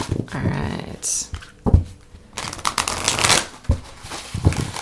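Large oversized tarot cards being shuffled by hand, with bursts of riffling and card slaps in uneven rhythm, close up, mixed with light handling noise and some talk.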